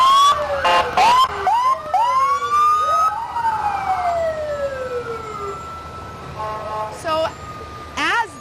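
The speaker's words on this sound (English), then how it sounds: "So as this very long line of fire trucks pass us" A long line of fire trucks passing in a grand parade, sweeping sirens wailing up and down, loud and close, with sharp bursts of air horns blaring at the start and end.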